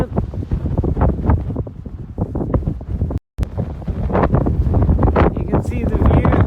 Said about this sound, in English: A bit windy at the top, but perfect conditions for running.